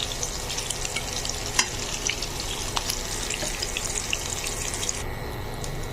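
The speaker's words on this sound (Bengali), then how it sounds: "আমার মাংসগুলো ডিপ ফ্রাই হয়ে গেছে।" Chunks of beef deep-fry in a pan of oil for a spicy Naga beef curry, giving a dense, continuous bubbling sizzle at close range with a few sharp crackles and spatters.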